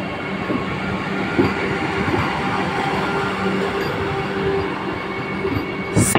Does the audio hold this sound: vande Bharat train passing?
yes